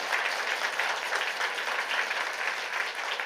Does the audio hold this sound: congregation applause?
yes